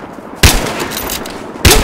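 Two loud sniper rifle shots in Battlefield Hardline ring out about a second apart, each a sharp blast followed by a short echoing tail.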